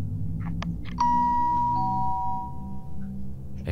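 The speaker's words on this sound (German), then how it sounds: "Er klingelt." A two-tone doorbell chime rings once at a house front door, a clear ding-dong with a long ringing tail that fades over a few seconds against low background hum, with a few soft clicks before it.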